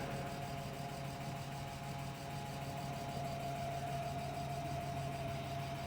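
A BMW E36 M3 with about 189,600 miles and a stuck fan clutch idles. It makes a steady, continuous engine drone with a constant whooshing roar, with no talking.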